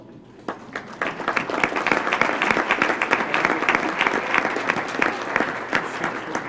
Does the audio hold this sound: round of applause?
yes